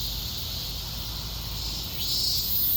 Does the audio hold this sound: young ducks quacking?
no